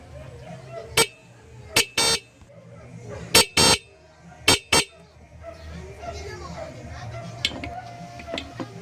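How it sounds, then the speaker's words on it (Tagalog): A car horn honks several times in short, sharp blasts, a few single and some doubled, over a low idling hum with no talking. "pakinggan muna natin yung ating tunog ng single horn."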